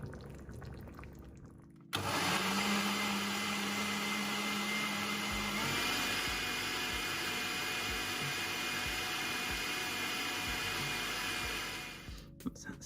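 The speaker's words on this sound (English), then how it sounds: "So I'll whiz that up in the blender, and we'll see what we get." A blender whirs steadily as it purées homemade ketchup ingredients, starting abruptly with a loud motor roar that holds for about ten seconds before cutting off, with no talking over it.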